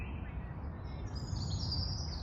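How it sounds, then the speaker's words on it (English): Birds singing outdoors in the countryside during foraging for elm seeds, a faint high chirping layer over steady low outdoor rumble across the short stretch. "listen to the birds"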